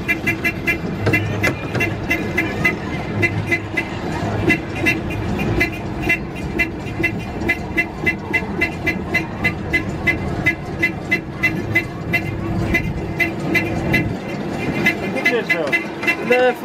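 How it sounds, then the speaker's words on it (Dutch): Horn toots repeat throughout from a car on the Tufferbaan amusement ride at Efteling, sounding over a steady rumbling engine-like drone, with people talking now and then. "En ik toeter mijn ongeluk"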